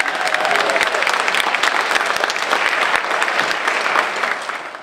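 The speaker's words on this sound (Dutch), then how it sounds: "En als je die naam zegt, dan gaan ze ook heel hard klappen." A large crowd claps loudly and continuously at a charity event, a dense close roar of hands with a few cheers mixed in, tapering slightly at the end.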